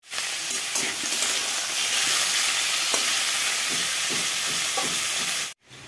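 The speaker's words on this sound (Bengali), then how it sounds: "আর এখানে এই যে মশলা কষাচ্ছি পনিরের" Spices frying in a pan for a paneer curry give off a loud, steady sizzle with scattered stirring scrapes, filling the whole stretch before cutting off abruptly at the end.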